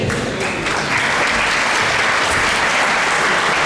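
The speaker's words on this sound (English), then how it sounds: "Can you bring on our applause for Prabhu?" An audience at a Hare Krishna temple talk in Toronto breaks into applause, a steady, dense round of clapping that swells quickly and holds loud to the end.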